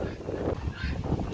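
Chickens clucking and squawking on a farm porch where puppies rest, a steady close chorus of fowl calls with some low rustling, no clear talk.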